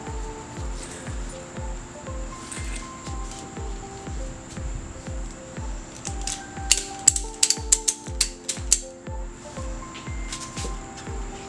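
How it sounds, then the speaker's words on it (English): A ratchet tightening down on a wheel, giving a long run of evenly spaced, crisp clicks at a steady rhythm, close and clear, with a brief burst of sharper metallic rattles partway through. "So get it tight, ratchet it."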